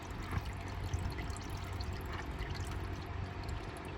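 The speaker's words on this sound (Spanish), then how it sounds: "Con mucho cuidado, porque ahí también sale un poquito de aceite." Engine oil drains from a 2022 Toyota Corolla during an oil change, a steady soft liquid pour and trickle running continuously under a low background hum, fairly quiet and close.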